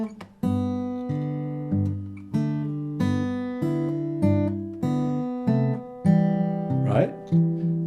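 A guitar plays Danny Boy in Travis picking, the melody lined up with the alternating bass notes in a steady, methodical plucked rhythm, clear and close with no talk.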